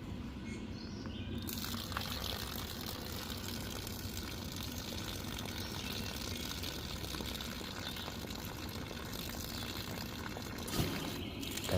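Water pours into the tank of a Vevor 4.5 kW steam generator, a steady rushing, gurgling flow held at an even level for several seconds, with faint background chirps and no speech.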